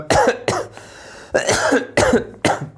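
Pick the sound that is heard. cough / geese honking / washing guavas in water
cough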